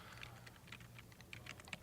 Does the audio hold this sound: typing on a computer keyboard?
yes